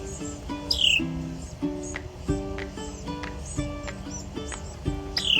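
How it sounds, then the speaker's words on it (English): Baby wrens chirp from a nest in a farmstead garden, a busy run of thin, high, close chirps with a louder single adult wren call rising over them at intervals. "Do y'all hear those little babies chirping?"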